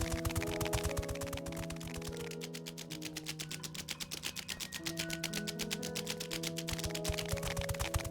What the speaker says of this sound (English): That is horse galloping